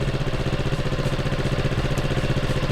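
A 150cc Adv scooter engine idling at about 1,800 RPM, a steady low drone with an even pulsing rhythm, close and continuous with no talk.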